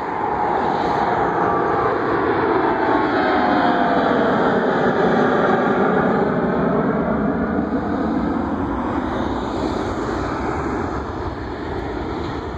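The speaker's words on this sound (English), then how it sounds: "717 from AirTran." An AirTran Boeing 717 jet passes an aviation park at BWI airport, a loud, steady engine roar with shifting whine that holds for the full stretch and eases slightly at the end.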